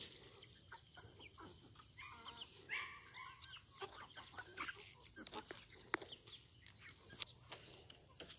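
Chickens cluck and chirp intermittently around a farmhouse garden, faint and somewhat distant, with scattered short calls over a steady background hiss while a person speaks nearby.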